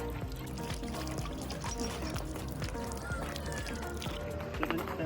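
Drinking water pours from a public tap into a refillable bottle on a Swiss street, a steady trickling stream under a busy background of voices and outdoor noise.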